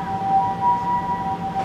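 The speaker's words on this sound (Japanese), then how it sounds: "救急車が今病院に入ってきました。" An ambulance siren holds a steady high wailing tone over low traffic rumble as it arrives at a hospital in Sapporo, sounding moderately close and continuous.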